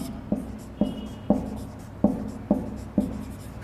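Pen or chalk writing out a Hindi poetry example by hand during a class lesson, a series of six sharp tapping strokes with short scratchy trails, fairly close and clear, no talking.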